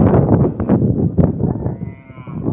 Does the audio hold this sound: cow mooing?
yes